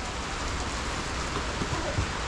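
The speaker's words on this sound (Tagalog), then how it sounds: "Kaya nga tayo, maulan eh." Heavy rain pouring down during a long bike trip from Manila toward Matnog, a loud continuous wash of noise with no pauses and only slight low rumbles under it.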